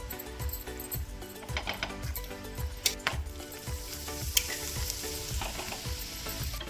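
Roti cooking on a hot pan with ghee, sizzling and frying steadily with a rhythmic scraping or stirring pulse and occasional sharp clinks, close and fairly loud, with no voices.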